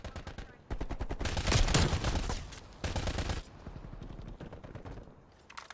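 Rapid gunfire from a first-person shooter game, Black Ops Cold War, in dense automatic bursts with short pauses, loud and close throughout.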